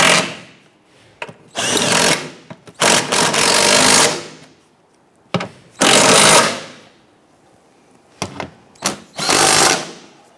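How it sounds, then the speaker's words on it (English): Power tool bursts from an impact wrench or drill tightening bolts on a 2011-2021 Jeep Grand Cherokee 3.6L V6 catalytic converter, with several loud whirring runs of one to two seconds separated by short pauses and brief clicks. "Go ahead and tighten these down."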